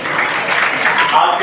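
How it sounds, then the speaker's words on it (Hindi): Applause at an awards ceremony closing a youth games event, a dense wash of clapping from a crowd throughout, fairly loud and steady. "जोरदार तालियां बजाकर स्वागत करें"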